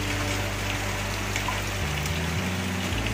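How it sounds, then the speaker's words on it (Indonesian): Heavy rain falls in a steady, loud wash of noise, with a low mechanical hum underneath that shifts partway through; no voices are heard. "Hujan lebat lagi."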